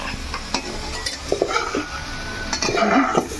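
Chicken pieces fry in oil in a pan, a steady sizzle broken by close scraping and clinking as a utensil turns them against the metal.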